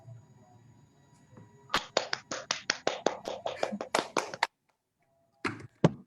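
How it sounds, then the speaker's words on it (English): Online audience members clap virtually at the LAM '21 closing ceremony: a quick, thin run of about a dozen crisp claps, a short silence, then a couple more scattered claps. "Can we all please have virtual clapping for all the organizers?"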